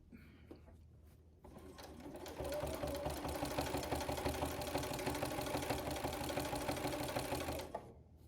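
A sewing machine stitches down quilt binding, starting after a few quiet handling noises and then running in a fast, steady, close whirring for about five seconds before stopping.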